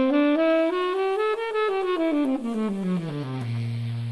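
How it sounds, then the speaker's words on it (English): A sustained wind instrument runs up a bright Lydian augmented scale and back down, ending on a long low note, played alone without speech. "I raise the 4th and the 5th, it'll sound like this"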